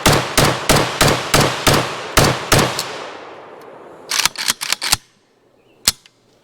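An RPK 7.62x39 light machine gun fed from a drum and fired on its bipod, sounding a sharp run of single shots that echo outdoors, then a quick burst and one final shot.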